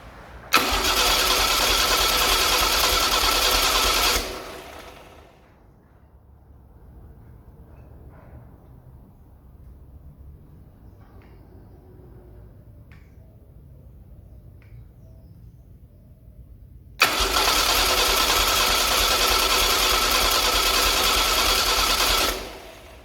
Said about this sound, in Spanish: Voy a hacerlo girar unas cuantas veces más y luego ya conectamos la bobina.